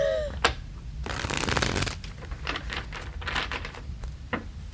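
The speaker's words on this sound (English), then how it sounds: "All right, last shuffle." Tarot cards are shuffled by hand in repeated riffling bursts, crisp papery flutters and taps close up, with short pauses between passes.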